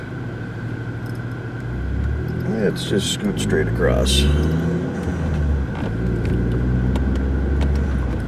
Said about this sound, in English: Car coming on the right, we're clear on the left.